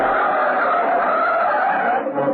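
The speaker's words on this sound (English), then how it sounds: "The speeding taxi careers along South Union Street and swerves violently into Walmer Road." Tyres give a loud, sustained screech as a speeding taxi swerves violently around a corner, staged as a radio drama effect with no voices over it.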